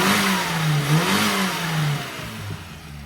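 A car engine revving after its carburettor needle was tuned from an extremely lean setting, a steady mid-pitched drone with rising and falling rev swells, moderately loud and without talk.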